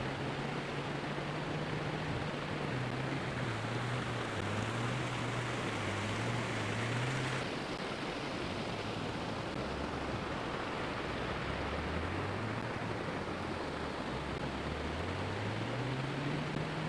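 Continuous rushing of a Colorado mountain creek in autumn, a steady broadband wash heard from a short distance, with a low engine drone wavering underneath.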